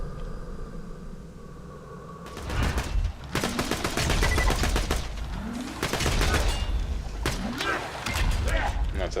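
Bursts of fire SMG gunfire in Borderlands 2, breaking out after a quieter stretch and continuing as loud, rapid volleys mixed with combat noise.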